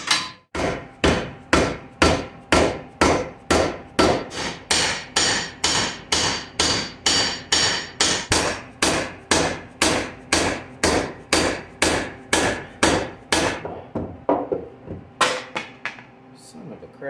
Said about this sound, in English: back to the vise, a little more hammering